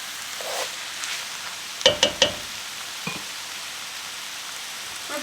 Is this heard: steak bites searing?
yes